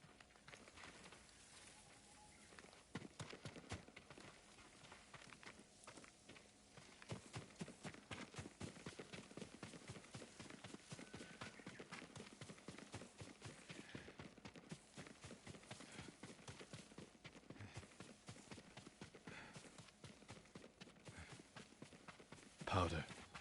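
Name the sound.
horse hooves clip-clopping in Ghost of Tsushima video game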